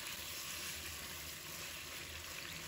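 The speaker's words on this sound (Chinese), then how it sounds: "继续煎一下，煎至金黄色，再把鸡腿里面的水分给它炒干" Chicken legs pan-frying until golden in a home kitchen give off a faint, steady oil sizzle that hisses evenly throughout with no pauses.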